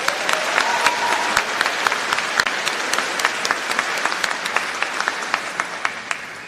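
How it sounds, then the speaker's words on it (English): An audience at a university commencement ceremony claps steadily for graduating students, a dense, sustained applause with individual sharp claps standing out, holding fairly even before tapering slightly at the end, with no speech over it. "Let's have a round of applause for these phenomenal students."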